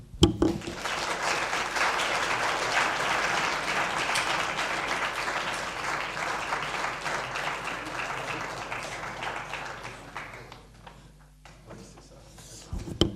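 Sustained, fairly dense applause from the audience closing a civil engineering lecture, steady for about ten seconds before thinning out and fading, then a brief final burst.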